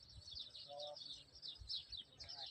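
Small birds chirp and sing repeatedly in a village with houses, vegetable plots and chickens, their calls fairly faint over a low background rumble.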